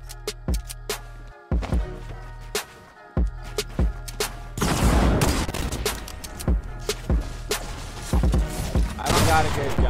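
Gunfire in the Fortnite Battle Royale video game: sharp, loud shots crack out singly at first, then a dense stretch of rapid firing follows, with fighting noises in between.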